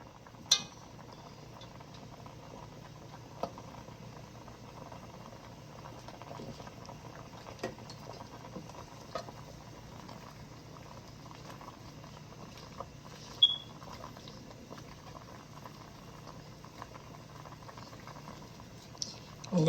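Afang soup ingredients bubble softly in a pot with salt and seasoning cubes added, a faint, steady simmer with occasional small clinks and pops.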